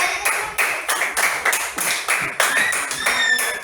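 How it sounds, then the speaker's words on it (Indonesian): Applause for a group at a teacher training session in Surakarta: a small group claps in a steady, quick rhythm of bursts, close and fairly loud with no talking. "Tepuk tangan untuk kelompok 2."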